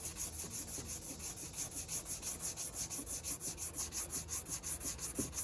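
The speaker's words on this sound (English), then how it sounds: "so we're going to sand it with some 320" Paint being hand sanded with 320-grit sandpaper, a faint, even rasping of quick back-and-forth strokes that repeats steadily throughout.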